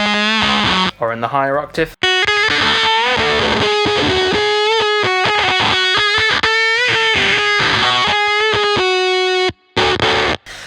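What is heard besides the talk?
electric guitar riff through fuzz pedal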